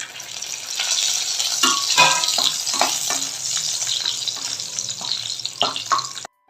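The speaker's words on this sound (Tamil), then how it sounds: "இப்போ இந்த முந்திரியும் திராட்சையும் வறுத்து சேர்த்துக்கலாம்" Cashews and raisins fry in hot oil for Varalakshmi Vratham pongal, a steady close sizzle with spoon stirring and scraping clicks throughout, ending abruptly.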